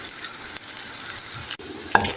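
A semolina paratha made with winter vegetables fries in oil in a pan, giving a steady close sizzle with a brief scrape and a soft clatter near the end as it is flipped.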